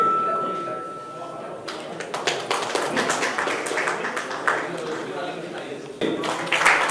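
Applause at a hostel golden jubilee ceremony in a hall, scattered hand claps building into a dense round of clapping, moderately loud, with voices talking over it.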